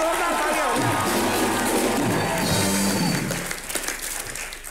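A television comedy show's studio audience claps and cheers for Irrfan Khan and Deepika, a dense wash of applause holding strong for several seconds before thinning out toward the end.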